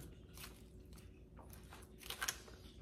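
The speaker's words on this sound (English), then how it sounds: "I like the crunch too of the tostada" Close, quiet crunching bites into a crisp tostada salad, a few brittle crackles and chewing sounds spaced across the moment, with no talk.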